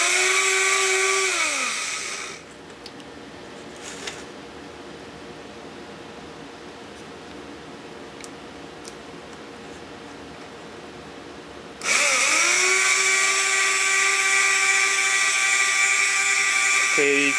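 A small DC motor with a Pentagon Y winding whines loudly at a steady pitch, cuts to a quieter hum for several seconds, then spins back up, with a faint rubbing buzz from the rotor throughout.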